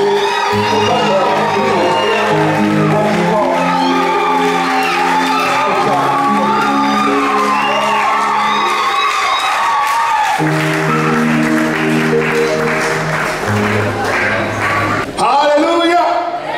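A church congregation cheers and applauds to welcome the pastor at a morning service, a continuous loud crowd roar with clapping and whoops layered over steady music playing throughout.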